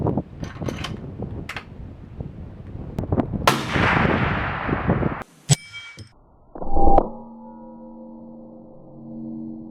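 A rifle fires at a target during a precision hunting challenge, several sharp reports and clangs over steady background noise, with a loud boom near the end followed by a lingering ringing tone.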